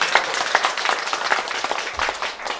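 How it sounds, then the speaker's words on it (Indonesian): Audience clapping at a village electricity grid inauguration ceremony, a moderately loud, steady patter of many hands with a few sharper individual claps near the front. "Tepuk tangan Pak Silat."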